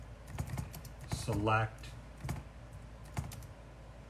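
Scattered keystrokes clatter on a computer keyboard, typed one-handed in uneven clicks and small bursts, fairly close, while a person speaks a word between them.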